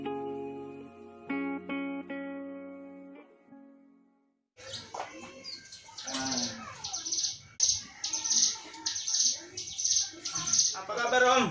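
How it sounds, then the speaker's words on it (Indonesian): Birds chirping at a bird seller's shop in Indonesia, dense overlapping tweets and calls after a short stretch of music, with people talking. "Makin banyak aja nih burung-burungnya nih."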